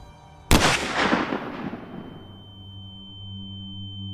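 A single loud rifle shot cracks out in the Wyoming backcountry during an elk hunt, its sharp blast rolling into a long echoing decay across open terrain, followed by a low steady hum.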